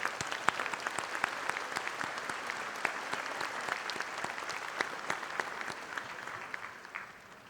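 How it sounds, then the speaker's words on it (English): Sustained applause from a commencement ceremony crowd at a community college, steady dense clapping for several seconds that gradually fades toward the end. "Join me in a round of applause."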